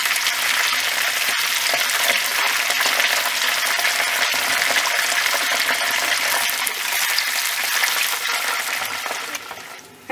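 Chicken wings frying in hot oil give a steady, loud, dense sizzle that crackles without a break from start to finish, with no voices.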